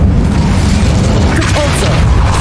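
Incendio fire spell cast in Hogwarts Legacy, a continuous loud roaring whoosh with deep rumbling body that stays dense and steady throughout, with faint voice traces underneath.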